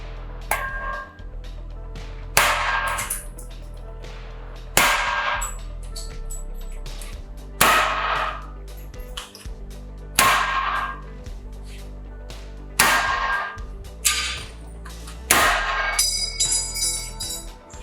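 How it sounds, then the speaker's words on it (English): Shots are fired one after another into a bullet trap on a tabletop gunsmith range setup: about seven sharp, loud reports, spaced roughly two to three seconds apart, each with a short ringing tail. "Now that we've put some rounds through the trap"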